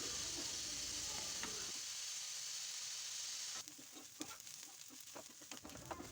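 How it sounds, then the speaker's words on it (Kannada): Onions with chana dal and urad dal sizzle in hot oil, a steady high hiss with occasional scraping stir sounds from a spoon in the pan, close and alone without talk. "ಈಗ ಇದು ಈರುಳ್ಳಿ ಫ್ರೈ ಆಗೋಷ್ಟರಲ್ಲಿ ಅದು ಫ್ರೈ ಆಗುತ್ತೆ"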